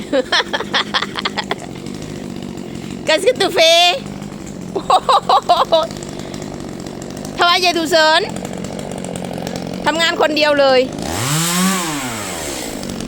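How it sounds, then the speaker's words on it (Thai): A small engine drones steadily in the background, like a lawn mower at some distance, while a person talks in bursts over it. "เสียงเครื่องตัดหญ้าว่ะ"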